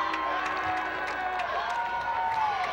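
Football crowd in the stands at a Mingus Marauders high school game against Flagstaff, a steady roar of cheering and whooping from many fans, distant and continuous, with a voice heard over it.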